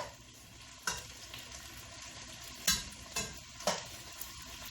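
Onions and bell peppers fry in a pan with a soft steady sizzle, broken by a few sharp scraping clacks as they are stirred.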